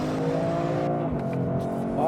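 A Toyota GR Corolla hot hatch blips its engine on a downshift into second gear, with a steady engine drone dipping as revs fall, then a short rising rev at the end, heard from inside the car.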